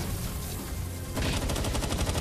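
Dense video game gunfire rattles continuously in rapid automatic bursts, loud and close, getting sharper and more clipped in the second half with no talking.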